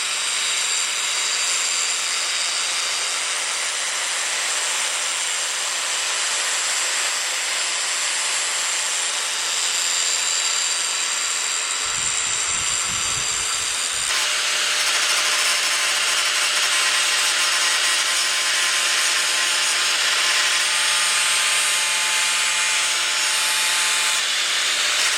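A grinder carves a Soul Reaver sword prop in one loud, unbroken abrasive roar. The whine stays close and steady for the whole stretch, with a brief low rumble partway through.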